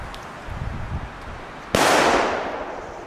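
A Belgian firework goes off with a single sharp, loud bang that cracks out suddenly after a moment of quiet rustling, then trails into a hissing, crackling decay lasting over a second.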